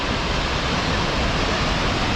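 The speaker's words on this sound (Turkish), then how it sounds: "Ve son olarak Murade Şelalesi arkadaşlar. Su debisi çok yüksek." Muradiye Waterfall in Van, Turkey, running at high flow, roars as a loud, steady broadband rush of falling water that stays constant and unbroken throughout, close and dense with no voices.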